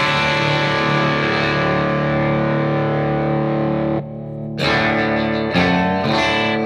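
An electric guitar plays through a Fender Mustang GT40 amplifier with heavy distortion, a thick sustained chord ringing for about four seconds, then a brief cut and a few more crunchy distorted strums.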